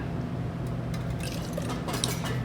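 Foursquare 2007 rum poured for homemade eggnog, a soft, steady liquid trickle with a faint splash near the end over a low background hum.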